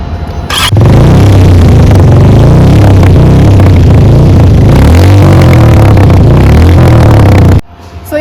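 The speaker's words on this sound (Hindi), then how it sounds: "अब यार मैं आपको इसके एग्जॉस्ट नोट का साउंड सुनाती हूँ" A Harley-Davidson X440T motorcycle starts up and idles with a loud, throbbing exhaust note, revved a few times in a pulsing rumble, then cut off abruptly near the end.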